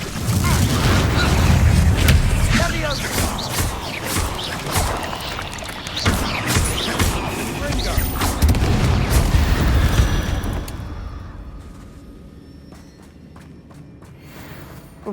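Spell combat blasts in Hogwarts Legacy: a dense run of loud booming impacts and crackling bursts for about ten seconds, with voices mixed in, then the fighting dies down to quieter background.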